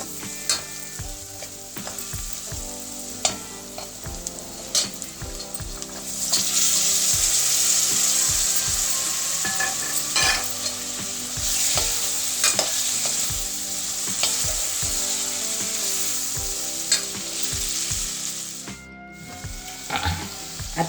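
Taro leaves being sautéed and stirred in a pan for a home-style aluvachi curry: loud, close sizzling with repeated scraping and clinking of a spoon against the pan, rising briefly in intensity midway, with no speech.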